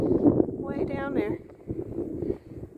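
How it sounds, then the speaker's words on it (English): Wind gusts across the microphone high in mountain country, a rough low rumble that rises and falls under a person talking nearby. "Sorry for the wind. It's windy today."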